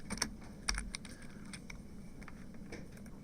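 A computer keyboard clicks as the Control 0 shortcut is pressed in Illustrator, a few crisp, close key taps spaced irregularly over a quiet background, with one heavier thump among them.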